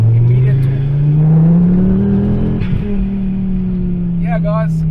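A 2011 Ford Focus ST 225 pulls hard under acceleration, its engine intake droning loudly and steadily as revs climb, dip briefly and hold, with the front wheels struggling for grip.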